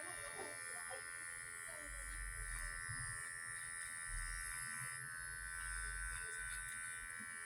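An electric razor shaves someone's hair, giving a steady close buzzing drone through the whole stretch, with faint background talk now and then.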